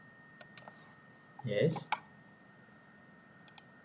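A few scattered computer keyboard key clicks while a PLC tag address is entered, quiet and close, with a short burst of speech in the middle.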